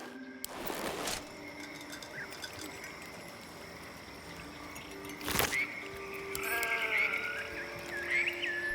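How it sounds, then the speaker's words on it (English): A sheep bleats in a wavering, warbling voice over a quiet hum, with a couple of sharp clicks and soft chimes around it, in Baldur's Gate 3. "The sheep's voice warbles."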